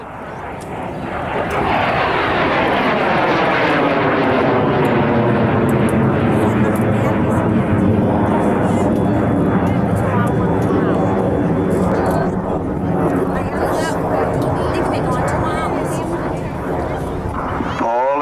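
A military jet flies an inside loop at a 1997 air show at Quonset Air National Guard Base, approaching at about 470 mph. Its loud, sustained engine roar sweeps in pitch as it passes, with voices faintly beneath.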